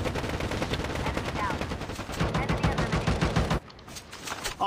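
Rapid, loud gunfire from a shooting video game, with sniper fire in the exchange: dense bursts of shots crackle continuously for several seconds, then cut off abruptly into a quieter stretch before resuming faintly.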